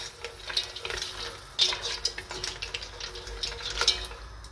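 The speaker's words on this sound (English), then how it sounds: "Now we give a good mix." A fish stew is stirred in a pot after water is added, giving a run of soft wet sloshes and faint clinks that come close and fairly quietly.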